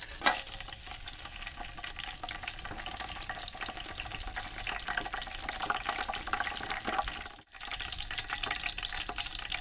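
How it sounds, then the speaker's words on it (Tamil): Groundnut oil sizzles steadily in a pan close up as cinnamon and other whole spices fry in it. A brief drop comes near the end before the crackle resumes. The spices are for a mutton dum biryani. "எண்ணெய் காஞ்சிருச்சு. பட்டை மசாலா போட்டுக்கலாம்."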